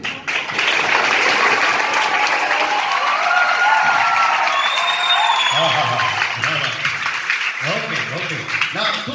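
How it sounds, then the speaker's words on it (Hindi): An audience at a Christian church gathering applauds steadily and loudly, with cheers and crowd noise underneath, tapering into scattered claps near the end. "ये मुंबई की ताली नहीं है, थोड़ा शोर चाहिए।"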